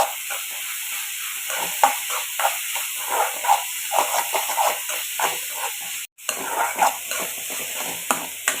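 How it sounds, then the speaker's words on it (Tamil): Green chilies and onions sauté in an oiled pan for an egg poriyal, a soft continuous hiss broken by repeated scraping stirs and light clinks, close and moderately loud, with one brief gap. "இந்த பச்சை மிளகா வெங்காயம் எல்லாமே நல்லா வதங்கி வரைக்கும்"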